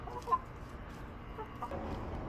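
Soft, low clucking from chickens nearby, a few brief calls over a quiet outdoor background with no talking.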